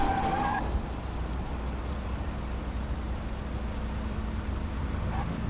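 A fast car in an Unreal Engine video game, doing about 140 kilometers an hour, roars steadily and loudly from start to end, with a brief tire skid at the start as it runs someone over.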